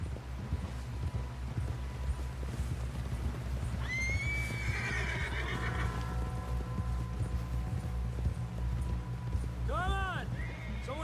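Rhythmic hoofbeats pound steadily throughout while a horse lets out a loud whinny midway and another shrill neigh near the end, with voices faintly underneath, in the video game Red Dead Redemption 2.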